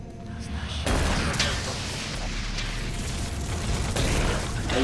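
Loud, dense rumbling blast with crackling debris and mechanical clatter in the PS4 Pro version of Doom 3, sustained for several seconds with no pause.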